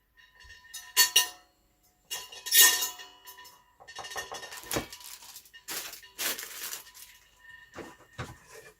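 Metal wire racks of a Sunbeam NutriOven CO3000 convection oven clinking and clattering as they are handled, with a string of sharp metallic clanks and rattles, close and fairly loud, and no talking.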